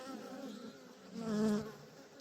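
Honey bees buzz around a hive in a close, droning hum that swells louder for a moment near the end before easing back, with no talking.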